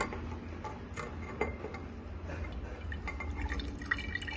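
Homemade rose water drips steadily into a glass bowl, soft irregular drops ticking close up over a quiet background hum.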